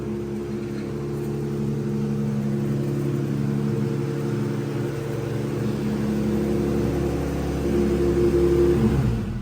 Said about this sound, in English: We went to the backup battery and then the Jeep started.